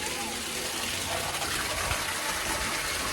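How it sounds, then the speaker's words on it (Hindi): Water gushing steadily into a container, a continuous close rushing hiss that stays even in level from start to finish. "पहले पानी भर लेती हूँ ना।"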